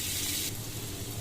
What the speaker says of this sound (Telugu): ఆ తర్వాత సన్నగా కట్ చేసి పెట్టుకున్న అల్లం ముక్కలు కూడా వేసుకోవాలి.